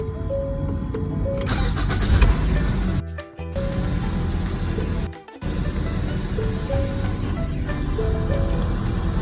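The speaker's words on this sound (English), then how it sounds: "Let's start it up." A 2016 Ford Fusion with the 2.5 liter engine, freshly fitted with new spark plugs, cranks briefly and fires up close by, then settles into a steady idle.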